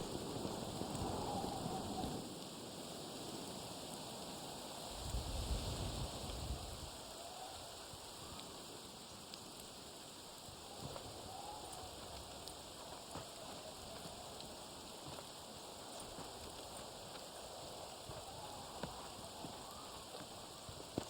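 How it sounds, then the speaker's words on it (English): Steady rain pouring in a Red Dead Redemption video game storm, with a low rumble of distant thunder early on, a continuous wash of rainfall throughout. "I really love the storms in this game."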